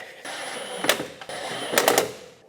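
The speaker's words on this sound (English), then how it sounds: "Now I'm gonna snug these up with the impact, but I'm gonna put the impact on its lowest setting" Two short bursts from an impact wrench on its lowest setting, snugging up bolts during a front CV axle replacement on a 2007-2018 Chevrolet Silverado, each burst a quick rattling buzz, close and fairly loud.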